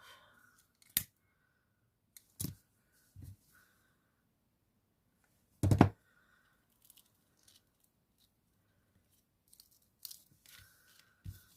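Scissors snip ribbon for a layered jelly hair bow, several sharp isolated cuts spaced across a quiet stretch with faint crinkles in between.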